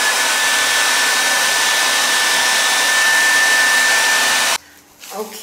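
A hair dryer blows steadily and loudly on a ginger wig, a constant whooshing roar with a thin whine, then switches off near the end.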